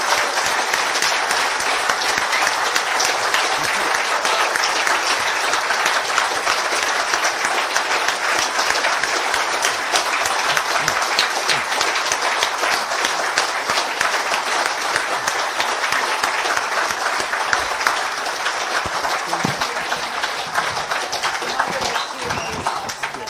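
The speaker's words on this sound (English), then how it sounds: "may I ask you for a round of applause for our panel of distinguished guests" A conference audience applauds a panel of distinguished guests, with steady, dense clapping from a large crowd that sustains evenly for over twenty seconds without fading.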